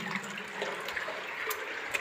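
Water stream flowing steadily inside the Patal Bhuvaneshwar cave, a continuous broadband rushing and splashing wash that holds an even level throughout, with no talking.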